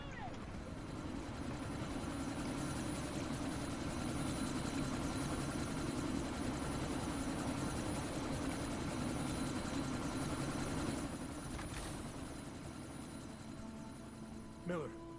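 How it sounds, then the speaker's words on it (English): A helicopter in the Deus Ex: Mankind Divided video game idles with a steady low rotor drone and hum, waiting to take off, fairly quiet and continuous with a brief click near the end. "That chopper's about to take off!"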